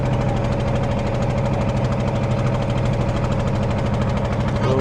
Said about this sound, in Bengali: ইটনা থেকে আবারও ট্রলারে করে চলে যাচ্ছি সেই চামড়াঘাট